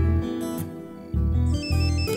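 A mobile phone rings with an incoming call in a Telugu comedy film scene: a loud, bright electronic melody of repeating tones, played alone with no voices.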